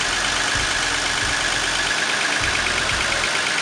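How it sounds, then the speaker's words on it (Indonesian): A Jeep fitted with a Mercedes engine idles smoothly and steadily, a low, even rumble with faint rhythmic pulses and no one speaking. "Mesinnya masih halus, guys. Nah, suara Mercy"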